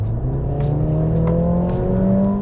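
A used Mercedes-Benz CLA accelerates hard, its engine note climbing steadily in a loud, continuous rev with no other sounds.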